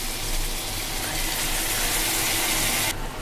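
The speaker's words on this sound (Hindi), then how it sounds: "अब गाइस हम इसके अंदर थोड़ा आधा कप पानी डालेंगे।" About half a cup of water poured into a cooking pot of tomato-and-tinda vegetable curry, a steady broadband gushing pour lasting a few seconds that cuts off sharply near the end, with no talk.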